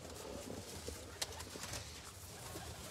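Pigeons coo softly in the background, faint and intermittent, with a brief sharp click partway through and no talking.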